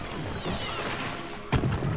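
A single sharp blast from an airstrike in Plants vs. Zombies: Garden Warfare 2 bursts out near the end, over a steady bed of game background noise.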